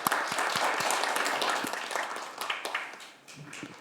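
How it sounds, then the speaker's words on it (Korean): Audience applause welcoming a speaker to a debate on teachers' political rights, a dense burst of clapping that thins out toward the end. "박수로 모시겠습니다."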